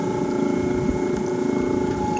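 An 18-pound-thrust electric trolling motor on a homemade pontoon boat running in high gear, a loud steady whine with a constant hum and wind noise over the water, no voices.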